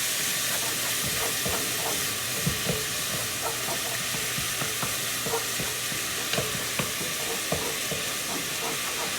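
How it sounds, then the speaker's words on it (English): Onions sizzle in broth in a pot on the stovetop, a steady frying hiss with scattered pops and stirring clicks throughout, close and fairly loud, no voices. "I am going to add just a little more of that broth in there, just to keep my onions from sticking"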